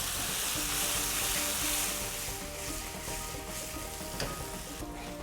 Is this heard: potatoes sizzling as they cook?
yes